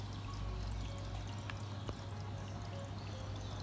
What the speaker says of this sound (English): Pour it into the toilet bowl straight away.